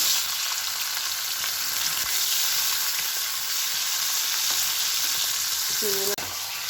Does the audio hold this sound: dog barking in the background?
no